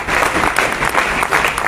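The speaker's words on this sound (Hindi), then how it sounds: "जोरदार ताली" Audience applause at a large direct-selling training event: dense, sustained clapping from many hands, fairly loud and even throughout the short burst.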